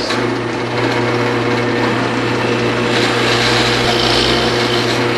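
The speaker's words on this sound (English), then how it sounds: "I'm going to finish drilling through this piece" A loud, steady whir of a drill press boring through soft wood, continuous and close, with no pauses.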